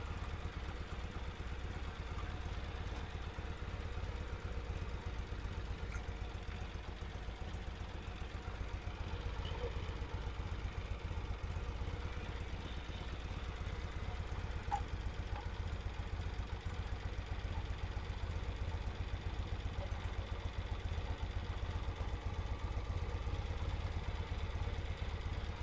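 A Norton motorcycle idles after a restart, its engine holding a steady, low, even thrum with light mechanical clatter for the whole stretch and no talk over it.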